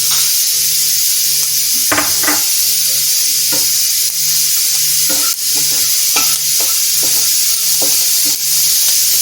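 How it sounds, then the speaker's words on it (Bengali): Panch phoron, dried red chillies and bay leaves sizzle in mustard oil with a steady loud hiss, broken by sharp stirring clinks of a spoon against the pan, close up and with no talk. "5 ফোড়ন আছে, শুকনো লঙ্কা, তেজপাতা, এটা আমি তেলের মধ্যে দিয়ে দিচ্ছি।"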